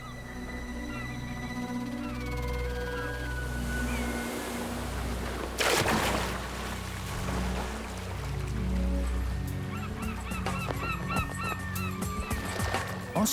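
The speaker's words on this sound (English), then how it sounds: "There are thieves everywhere. Greater blackback gulls." Harsh, honking calls of great black-backed gulls repeat over a constant low rumble of wind or surf, with a sudden noisy burst midway and more calls near the end.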